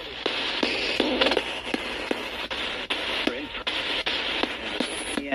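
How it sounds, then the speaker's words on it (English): Spirit box radio sweeping through stations gives continuous loud broadband static with quick crackling clicks and short choppy bursts throughout, no clear speech in it. "You hear like more like static in there."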